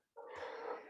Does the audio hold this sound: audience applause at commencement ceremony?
no